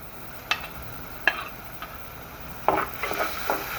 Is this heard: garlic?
yes